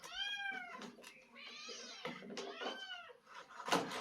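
Several drawn-out domestic cat meows with rising and falling pitch, loud and close, one after another with short gaps, in a home kitchen where fish is being fried.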